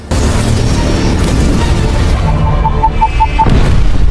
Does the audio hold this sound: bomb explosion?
yes